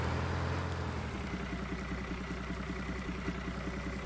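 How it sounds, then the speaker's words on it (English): A tractor engine idles in Farming Simulator 19 while logs are loaded onto a trailer, a steady low throbbing rumble with a rhythmic mechanical pulse, fairly loud and constant, no talk. "This tractor is working out pretty good."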